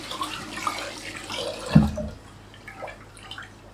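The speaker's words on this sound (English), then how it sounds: "before you cook the rice, you always wash the rice first" Rice being washed in water before cooking, with a brief swish and splash in a bowl or pot, a soft watery slosh peaking near the middle against a quiet background.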